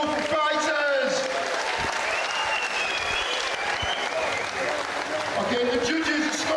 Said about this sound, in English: can we have a big hand of applause,